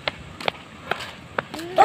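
Short, distant dog barks come in a loose series of about four quick yaps, faint against a quiet outdoor background.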